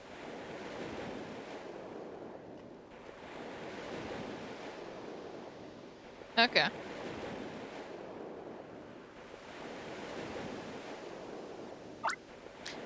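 Ocean waves roll in a video game scene, a steady washing surf that swells and fades in slow cycles, with a couple of sharp clicks breaking through midway and near the end.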